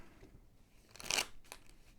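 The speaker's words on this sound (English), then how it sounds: "We'll shuffle these up." A deck of board game cards being shuffled, a quiet, brief riffling burst with a softer flick after it, close by in a quiet room.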